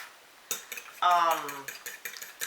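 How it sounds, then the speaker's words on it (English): A single egg being beaten briskly with a utensil in a bowl for a potato-ball batter, giving a short run of light clinks and scraping taps, close and fairly quiet. "scramble up my 1 egg right here"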